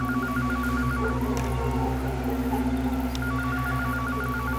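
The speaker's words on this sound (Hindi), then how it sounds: "फोन बज रहा है।" Electronic phone ringing repeats in two bursts, one at the opening and one toward the end, over a humming, droning background score in a Hindi horror drama scene.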